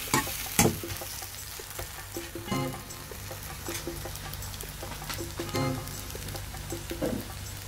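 Pita bread cooking in butter in a pan gives a soft, steady sizzle and frying crackle, faint and close, with occasional small pops and scrapes throughout and no talk.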